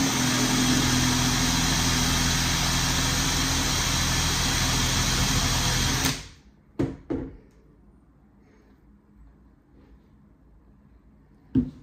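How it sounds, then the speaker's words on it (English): A loud, steady power drill whine runs for several seconds while drilling into a coconut, then cuts off abruptly, followed by a few sharp knocks in near silence. "When this can drill through the wall, so how the fuck can he drill through this coconut?"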